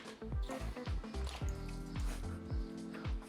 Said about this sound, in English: watch what happens when I operate the pressure relief valve